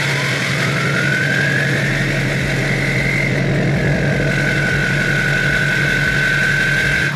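An LBZ diesel truck engine idles close by, a loud, steady low rumble with a fast, even pulse and a faint whine above it that shifts slightly partway through.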